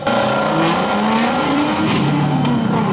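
A BMW E46 with a ZHP engine swap roars steadily at high revs as it drives hard on a track, loud and close, with shifting pitch and no talking.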